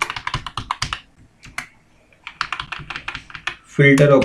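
Keyboard keys clacked in quick clusters while entering a shortcut in Microsoft Excel, fairly close and crisp, with a short pause midway and a denser burst of sound near the end.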